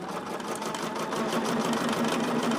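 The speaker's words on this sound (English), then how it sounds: "I'm just in the sewing room sewing today" A domestic sewing machine stitches a quilt in a sewing room, running steadily and loudly close by with a continuous whirring hum and a rapid, even needle rhythm.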